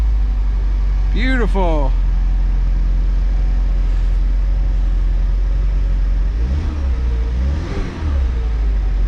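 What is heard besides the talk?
2008 Saturn Sky Redline engine starting and revving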